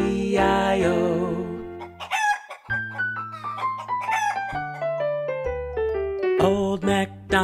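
A sung nursery rhyme about a farm, with music and voices imitating a chicken's clucking in a steady rhythmic pattern, loud and continuous throughout.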